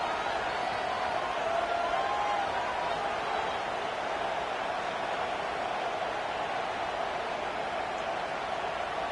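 Football stadium crowd roaring steadily as a defense is pinned deep in its own end, a dense, continuous wash of cheering and murmur with no gaps across the whole stretch.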